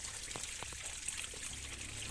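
Water drains out of a fish pond as a quiet, continuous trickle with a few small splashy drips.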